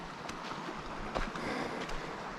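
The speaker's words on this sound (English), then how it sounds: "The creek, you can hear it." Creek flowing through a river canyon, a soft continuous rush of water with faint splashy texture, moderately distant and fairly quiet.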